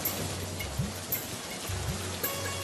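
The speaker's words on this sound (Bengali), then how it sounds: "শাপলা, দিয়া ও রাজু বৃষ্টির পানিতে ভিজতে ভিজতে নদীতে মাছ ধরতে যায়।" Steady rain falls over a cartoon village while children walk through it to fish in a river, an even wash of patter with no talk and a few faint low tones underneath.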